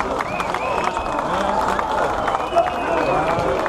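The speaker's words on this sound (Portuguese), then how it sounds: "uma grande salva de palmas também para todos eles" A crowd at the chestnut festival in Curral das Freiras claps and cheers outdoors, a lively continuous patter of applause mixed with voices and chatter throughout.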